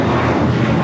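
An airliner takes off at LAX, its loud, broad jet engine roar filling the short moment with steady, close rumble and no talk.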